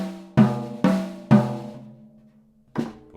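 Three resonant tom-tom hits in quick succession, each ringing out with a low pitched tone, then a fourth hit after a pause.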